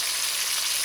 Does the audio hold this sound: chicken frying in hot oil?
yes